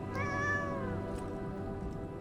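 A cat in the video game Lies of P gives a single short, faint meow, a rising-falling tonal call near the start, over a steady low background hum.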